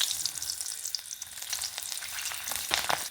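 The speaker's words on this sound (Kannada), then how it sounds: "ಅದೇ ಎಣ್ಣೆಗೆ ಒಂದು ನಾಲ್ಕು ಹಸಿಮೆಣಸು ಹಾಕಂತ ಇದ್ದೆ" Four green chilies frying in hot oil in a pan, a steady bright sizzle with crackling pops throughout, close and continuous, with no voice.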